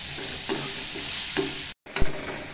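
Chopped onion and tomato sauté and stir in a hot pan with a steady low sizzle, broken by a few spoon scrapes and a brief dropout near the end.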